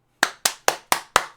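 A video game character claps: five crisp, evenly spaced claps in quick succession, loud and close, each one sharp with a short decay, against near silence.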